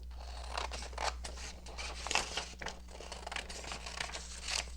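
Scissors snip paper for lace-covered postcards in a quiet indoor craft session, a quick string of crisp cuts with soft crinkling and rustling between them, close and fairly faint.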